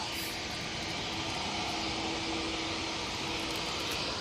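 An EasyJet airliner on approach to land at Manchester Airport during a storm, a steady broadband engine roar mixed with wind noise, constant and moderately loud with no clear voices.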